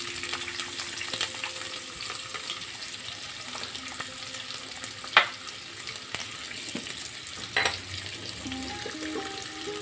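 Two chopped onions fry in a pan for shrimp masala with a steady, close sizzle. A couple of brief clanks from stirring rise above the hiss.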